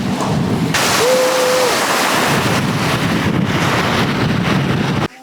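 Waves wash against a fjord shore in Iceland with a constant loud roar, heavy wind buffets the microphone, and a brief faint tone sounds early on.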